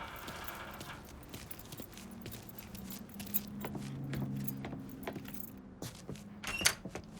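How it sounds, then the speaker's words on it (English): Truck keys picked up in Mafia 3: a few metallic jingles and small clinks over quiet game ambience, with a low hum in the middle and a brighter jangle near the end. "Lincoln, pick up the keys."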